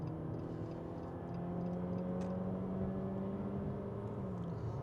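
The 2.4-litre engine of a 2022 Jeep Compass Limited drones steadily at full throttle, a sustained low roar with a slowly rising tone heard from inside the cabin.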